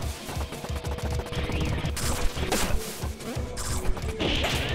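Rapid gunfire and crashing impacts from the video game Pizza Tower, with dense repeated bangs and clattering hits running continuously without pause.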